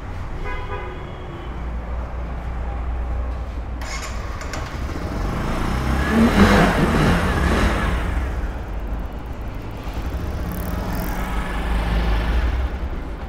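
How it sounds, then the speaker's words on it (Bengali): A motorcycle propped on its double stand runs with a steady, fairly loud low engine drone that swells briefly midway and again near the end, with no talking over it. "ডবল স্ট্যান্ড করে আপনার বাইকটা আপনি চালু করবেন।"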